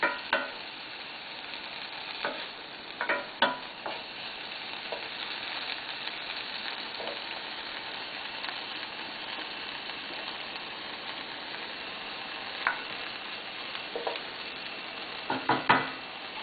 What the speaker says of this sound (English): the key to sauteing is that you keep turning the vegetables so that nothing burns